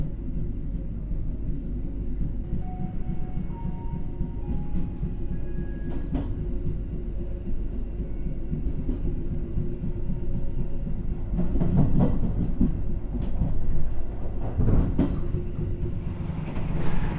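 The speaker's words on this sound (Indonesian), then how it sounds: "Kita diberangkatkan kembali dari stasiun Pekalongan ya." Argo Bromo Anggrek executive train pulling out of Pekalongan station, a steady low rumble of the carriages on the rails with rhythmic clicks and a few sharper metallic knocks, heard from inside and continuous throughout.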